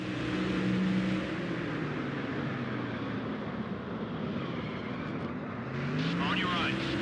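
Race car engines in the NASCAR Thunder 2004 racing game at a Texas road course, a loud steady engine roar with shifting pitch as cars run side by side, continuous throughout with a voice talking over it.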